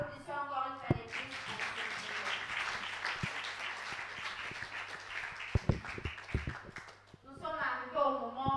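Sustained applause from a crowd, dense clapping filling most of the stretch, with a voice speaking briefly before and after it.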